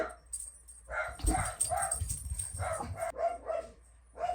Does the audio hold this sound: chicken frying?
no